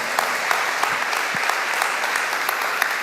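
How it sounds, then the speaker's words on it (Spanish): A church congregation claps together in loud, sustained, even applause that fills the room for the full few seconds. "Si vas a aplaudirle, apláudele a Él,"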